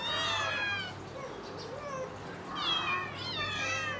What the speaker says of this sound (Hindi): ये हमारी कैट आवाज़ें कर रही है